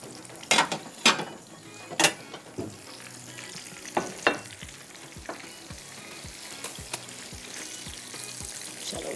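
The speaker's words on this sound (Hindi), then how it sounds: "इसको मैं फ्राई करके निकालती हूँ" Chicken with cheese frying over a high flame sizzles continuously up close, punctuated by loud metal scrapes and clanks of a spatula in the first half, then rhythmic scraping stirs; no speech.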